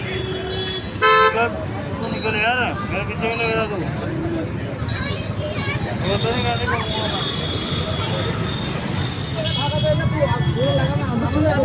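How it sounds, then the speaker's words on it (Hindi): Busy night traffic at a crowded Jaipur temple area, with repeated car and bus horns honking at varying pitches over a constant road rumble, while people talk nearby throughout. "तो गाइस रात में देख लो पूरी जगह पे ट्रैफिक हो रखा है"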